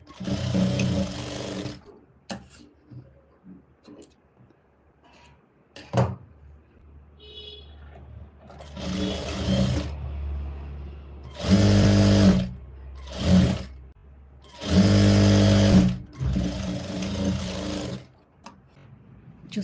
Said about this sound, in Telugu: నెక్స్ట్ వచ్చేసి స్ట్రైట్గా స్టిచ్ అనేది వేసుకోవాలి